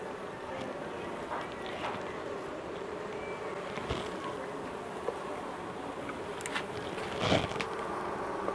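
Swarm of bees buzzing around an open hive with emerging brood, a soft, steady hum with occasional closer passes of individual bees, heard from nearby outdoors.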